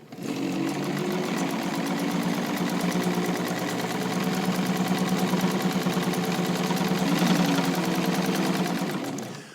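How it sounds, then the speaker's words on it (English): A restored White all-metal rotary sewing machine stitches through thick material at slow to medium speed, making a loud, continuous, even mechanical whir and rapid rhythmic clatter that runs with no voices. "you want to start with your needle down because it gives the machine sort of a jump start on going through the material"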